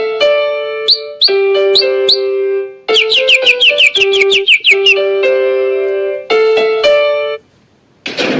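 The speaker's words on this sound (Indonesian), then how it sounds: "Allah mengutus para burung yang datang pada pagi dan sore hari." Birds chirp and tweet in a steady run of bright, rising calls, repeated in quick rhythmic bursts with short pauses, loud and close, ending in a brief hiss.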